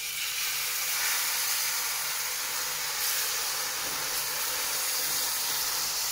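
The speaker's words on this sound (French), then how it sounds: "on va aller prendre 2 verres de vin blanc, comme ceci" White wine poured into a hot casserole pot to deglaze it for a veal blanquette, producing a loud, steady hiss and sizzle of steam that continues unbroken throughout.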